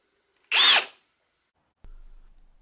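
A Ferrex Pro 40v brushless cordless combi drill from Aldi spins briefly to close its keyless chuck, a short sharp whir followed after a pause by a faint low ratcheting rumble.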